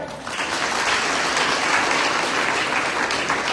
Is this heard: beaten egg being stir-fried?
no